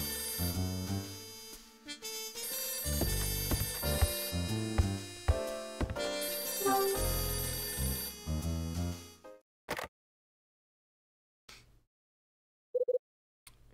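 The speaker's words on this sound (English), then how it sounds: "It's the phone again." A telephone rings in the video game Last Window, a loud electronic melodic ringtone repeating for about nine seconds, then stopping, followed by near silence with a few short blips.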